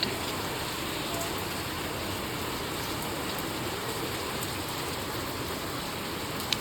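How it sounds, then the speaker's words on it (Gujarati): Heavy rain falls fast and steadily during the monsoon, a dense, even hiss of drops with no breaks, fairly loud and close, and no talking. "અને હવે વરસાદ પડે છે ફાસ્ટ"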